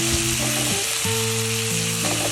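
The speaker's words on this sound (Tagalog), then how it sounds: "So, sasangkotsahin lamang po natin kasama po ng bawang at sibuyas" Tomato sautéed with garlic and onion in a hot pan, producing a loud, dense, continuous sizzle with light stirring, close up, with a steady low tonal hum running underneath.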